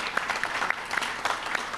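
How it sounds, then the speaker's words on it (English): Audience at a by-election candidates' event claps steadily for about two seconds, a dense patter of many hands with no voices. "So then let's clap for them."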